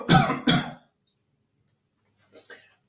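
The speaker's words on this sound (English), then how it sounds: "Inhale again, and gently force a cough." Two short, forceful coughs in quick succession, close by, followed by silence and a faint breath near the end.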